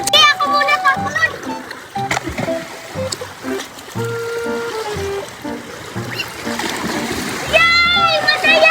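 Children jump into the sea, with splashes of water breaking out among their excited chatter and shouts close by.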